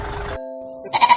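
A goat gives a short bleat with a wavering, nasal tone, followed by the start of a second bleat, heard close and clear with no talk.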